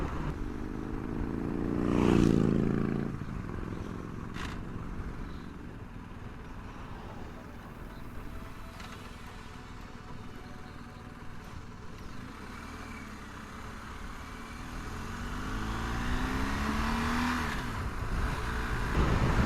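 A motorcycle is ridden through Big Bend, with constant heavy wind rush and buffeting over a low engine drone that swells briefly near the start and again toward the end.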